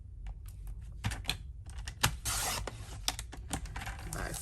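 Basic white cardstock being cut on a paper trimmer during card making, a series of close, crisp clicks and scraping slides with a brief rasping sweep in the middle, no talking.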